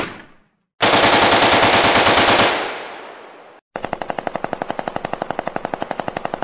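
Machine-gun fire in long, rapid bursts, loud and close; one sustained burst fades out, then after a brief gap a second burst of sharper, evenly spaced shots carries to the end.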